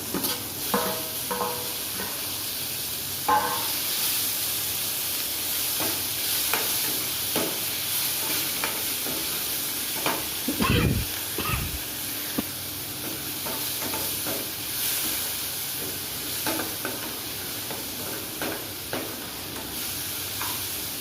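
Tomatoes hit hot oil in a dal tadka pan, giving a steady sizzle and hiss with scraping, clinking stirring sounds throughout and a louder burst of spattering midway, heard close and without talk.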